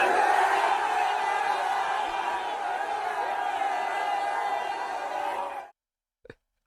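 New York Knicks fans cheering and shouting as a crowd, a dense continuous roar of voices for several seconds that cuts off abruptly, followed by near silence and one brief sound.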